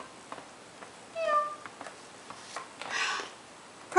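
A cat meows a few times, thin drawn-out cries up close and fairly clear, with light rustling between calls and no talking.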